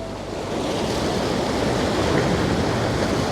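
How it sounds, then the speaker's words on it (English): Heavy ocean surf pounding the shore at Petrol Cove, a continuous deep roar of breaking water mixed with wind buffeting the microphone, loud and close, swelling slightly after the first half second. "that water is pounding"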